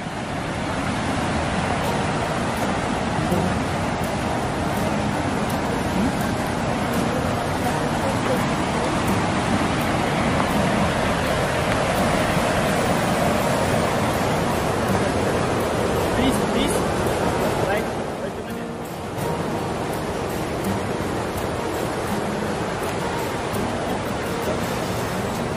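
A fast-flowing river rushes below sturdy wooden stairs in Ushguli, Georgia, during light rain, a loud, continuous broadband roar that barely changes across the whole stretch.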